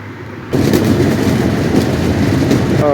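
Inside an air-conditioned railway coach near Mobarakganj station, a steady rumbling train roar rises suddenly after a quiet half second and holds loud and continuous, with faint rhythmic rattles and no voices.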